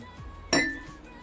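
Drinking glasses clink together in a toast over a meal of gopchang tteokbokki: a single bright, ringing clink that fades quickly in a quiet room.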